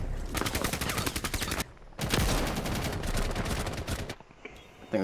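Loud, close automatic gunfire from the tactical shooter game Rainbow Six Siege rattles in long rapid bursts, breaking off briefly and resuming, with no speech heard.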